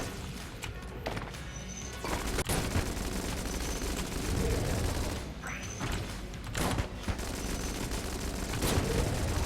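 Shotgun fire in the Enter the Gungeon video game, with bursts of scattered blasts among dense, busy game effects and a few sharp loud hits.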